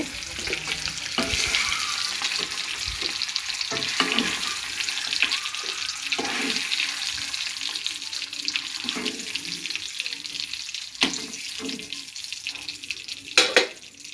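An egg fries in a pan with a steady, close hiss of oil that runs throughout, broken by a few brief scraping and tapping sounds.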